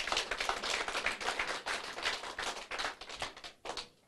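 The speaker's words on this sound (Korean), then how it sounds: "박수 한번 해주십시오" An audience at a business seminar breaks into clapping, a brisk, close crowd of hands patting in uneven bursts for about four seconds before tapering off, with no one talking over it.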